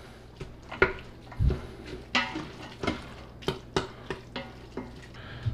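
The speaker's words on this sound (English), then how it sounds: "Mix all them veggies up with that meat, and then break up any" Taco meat and vegetables are stirred in an Instant Pot with a spoon. A series of short scraping, clattering strokes comes at an uneven rhythm against a soft sizzle, with no talking.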